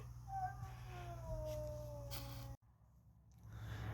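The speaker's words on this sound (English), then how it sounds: "the cat started totally going crazy" A house cat yowls in a long, drawn-out caterwaul with a falling pitch, close and fairly loud, over a low background hum before a sudden cutoff.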